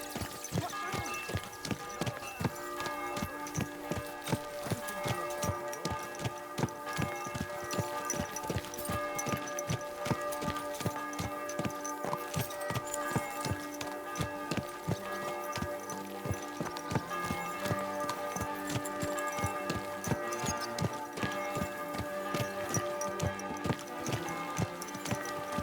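Horse hooves clip-clop at a walking pace in Kingdom Come Deliverance 2, a steady, even run of close hoofbeats over a quiet ambient bed, with no talking.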